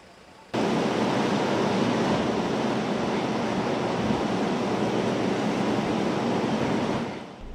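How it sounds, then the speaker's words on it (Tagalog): Strong typhoon wind roars in Isabela during a storm, a loud, dense wash that starts abruptly and holds at full force, then eases off at the end, with no talk. "Malakas na hangin"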